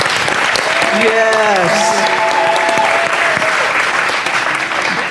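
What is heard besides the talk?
audience applause at an expansion dedication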